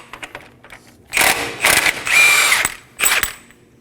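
An impact gun or similar power tool with a 32mm socket spins off the front axle nut of a 2016-2020 Kia Sorento. Several loud, rapid mechanical whirring bursts come close up, separated by short pauses, with no speech.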